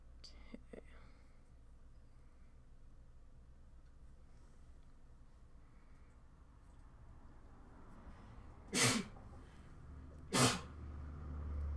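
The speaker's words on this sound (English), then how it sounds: "just sneezed." A person sneezes twice, about a second and a half apart, sharp and close over a quiet room hum, with faint whispering earlier.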